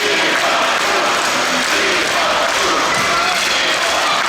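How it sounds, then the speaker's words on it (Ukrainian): Teammates and fans in a basketball arena give a departing captain a sustained ovation, with dense continuous applause and crowd cheering throughout. "Його проводжають оваціями. Як партнери по команді, так і вболівальники."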